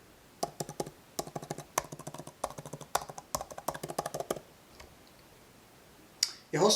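Fingers type on an iPad Pro 2018 keyboard, a steady run of close, crisp key clicks that stops abruptly, followed by quiet and a brief rustle at the end.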